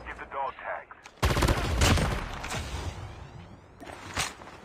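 Shotgun fire in the mobile shooter Call of Duty Mobile: a sudden loud blast followed by a rattling gunfire burst, then another shot near the end, with a voice speaking beneath.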